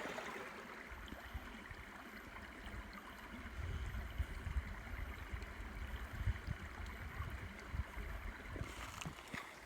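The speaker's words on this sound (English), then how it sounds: "It's a creek right here coming from Gorman Spring" A small creek fed by Gorman Spring flows with a soft, steady rushing and burble, faint and close, with no talking.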